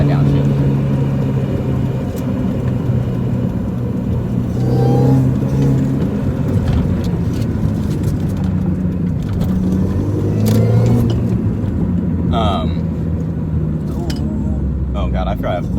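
A manual car's engine revs and winds up unevenly through a bad downshift while the driver double-clutches. The engine note rises and falls up close, with someone talking over it.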